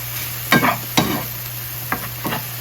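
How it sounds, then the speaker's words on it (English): Mushrooms sauté in a pan with a steady sizzle, broken by a few sharp scrapes of stirring, close and fairly loud; no one speaks. "continue to cook the mushrooms in a separate pan"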